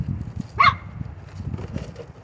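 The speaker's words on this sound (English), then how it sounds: "that's my fur baby barking" A single short, sharp yap from a small dog stands out over low rumbling background noise and scraping, then things settle into a quieter hum.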